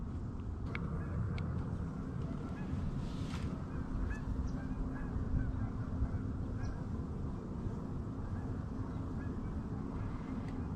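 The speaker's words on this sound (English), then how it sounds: "We just had a group of 20, 25 geese get up" A flock of about twenty to twenty-five geese honking as they lift off water during a teal hunt in Indiana, faint, distant calls scattered over a steady rumbling wind and water background.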